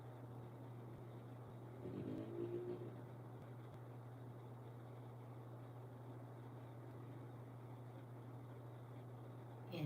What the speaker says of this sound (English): I be hearing that, and it's somebody on a scooter